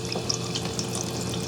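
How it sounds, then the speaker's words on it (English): Water rushes steadily into a GE dishwasher through its inlet valve on a normal cycle, a constant hissing, splashing flow with no talk over it. "I can hear the water going in, so that all looks good."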